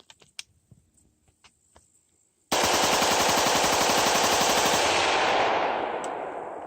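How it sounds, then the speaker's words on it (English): AR-15 rifle fired rapidly without a bump stock: after a few faint clicks, a loud, fast, continuous string of shots runs for about four seconds and then tapers off slightly. "Want to see how fast you can shoot an AR-15 without a bump stock?"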